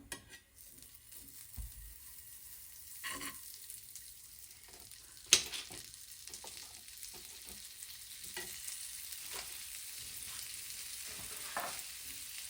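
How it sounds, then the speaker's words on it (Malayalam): Butter sizzles in a hot pan, a faint, steady frying hiss close by with a few light clicks and scrapes and no talking. "പാൻ ചൂടായി കഴിഞ്ഞാൽ അതിലേക്ക് ബട്ടർ ചേർത്ത് കൊടുക്കാം."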